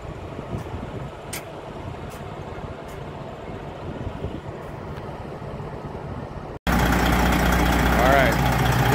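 Detroit Series 60 14-liter turbo diesel engine running with a newly fitted turbocharger, a steady droning idle that jumps abruptly louder and closer near the end.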